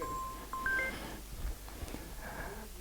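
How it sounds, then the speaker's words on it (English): A mobile phone sounds during a talk on air pollution and climate change, giving a few short electronic tones, faint against a quiet room with no talk. "I think that's my phone."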